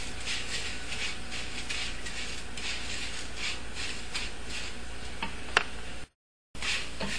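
Rice frying in a pan as a flavorful, slightly nutty step before the liquid goes in, a steady close crackle and sizzle with light stirring scrapes and a sharp clink near the end, then a brief drop to silence.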